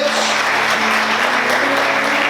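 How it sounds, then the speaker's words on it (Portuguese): A church congregation applauds during a worship service, a dense, steady wash of clapping hands held throughout with a faint sustained tone underneath. "Você pode aplaudir a Deus."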